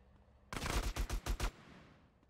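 A rapid burst of about five loud gunshots in Grand Theft Auto San Andreas, sharp and close, cut off abruptly and leaving a faint fading tail.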